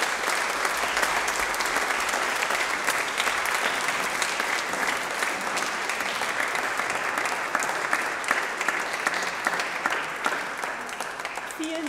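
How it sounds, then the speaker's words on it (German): Sustained applause from a church congregation for the children performing a nativity play at a Christmas Eve family service, dense, steady clapping filling the space throughout with little variation. "Ich denke, die Spieler haben einen Applaus verdient."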